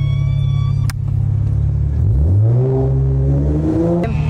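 A car engine with its catalytic converter removed idles with a low steady rumble, then revs up, its pitch rising and holding high before settling, loud and close.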